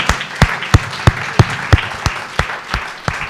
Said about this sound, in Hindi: हम सब लोग तालियां बजा के स्वागत करें